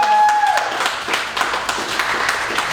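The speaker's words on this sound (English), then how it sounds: "give yourselves a round of applause" Applause from the crowd at a live improv comedy show, many hands clapping in a full, continuous burst that starts as a held tone fades out, loud and close.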